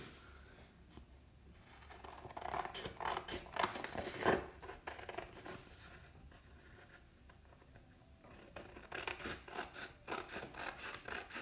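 Scissors snip and rasp through a paper A6 card template up close, in uneven bursts of cutting and rustling that come and go, with no talking.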